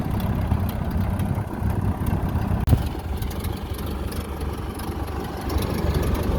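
An old flathead engine pulled from a barn after more than 40 years idles steadily at close range, a low rumbling drone broken by one sharp click near the middle.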